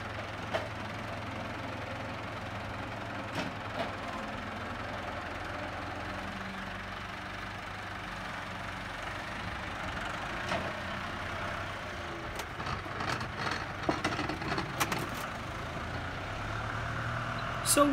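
Steam traction engines idle and chug at an outdoor steam picnic in Milton, a low rumbling drone with scattered clanks and hisses, moderately near and steady throughout.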